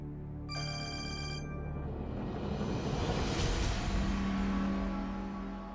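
A telephone rings in a short burst of bright electronic tone, then fades under a swelling rush of background sound that carries on for several seconds.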